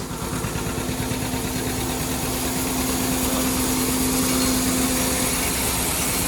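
An original John Deere 630 tractor running while grinding feed, a loud, steady engine drone with a constant mechanical hum and no let-up, alone with no talking.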